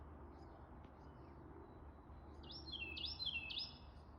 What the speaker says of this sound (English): Do you hear this bird?